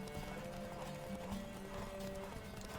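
A horse in The Witcher 3 gallops in Novigrad with rapid rhythmic clip-clop hoofbeats, faint and fairly even, mixed with low game ambience and a brief whinny-like tone.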